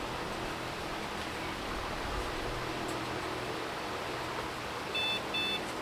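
Two short electronic beeps from a Pentium II computer starting up sound near the end over a steady fan-like hiss.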